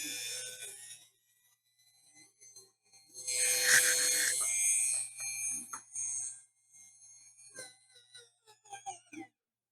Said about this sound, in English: it's a rotary tool. It's not designed for brute strength.